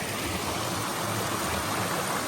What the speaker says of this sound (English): this is Wilbur Brook. We'll cross over Wilbur Brook here.